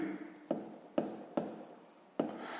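Pen writing on paper while working a sixth-grade math exercise: a steady scratching with four distinct taps or strokes spaced unevenly, close and fairly quiet.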